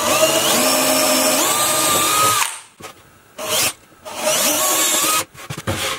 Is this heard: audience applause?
no